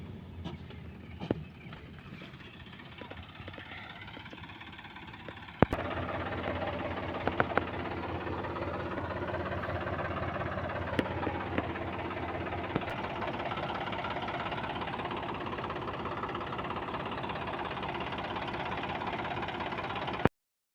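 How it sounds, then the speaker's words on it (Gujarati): Tractor engine running steadily nearby as it crushes cow-dung manure, a dense mechanical rumble with knocking and clattering that grows louder and stays constant after a sharp bang. "આપણે ટ્રેક્ટર ખાતર ફોડી રહ્યું છે"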